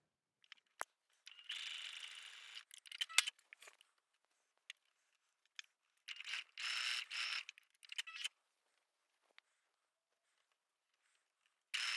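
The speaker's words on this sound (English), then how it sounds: "So we're sewing here and here with 5/8 of an inch seam allowance." A sewing machine runs along a top's seam in two bursts of rapid mechanical stitching, with quiet gaps and isolated clicks between the runs and no voices.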